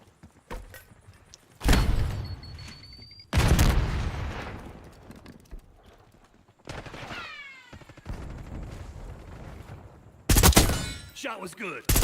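Bursts of automatic gunfire ring out in a shooter video game as players are shot, loud sustained volleys separated by quieter gaps holding other whining game sounds.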